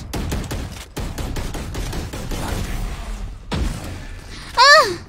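Rapid gunfire in a first-person shooter video game rattles off in quick bursts with a short pause, followed by a rising electronic effect, while a voice speaks over it.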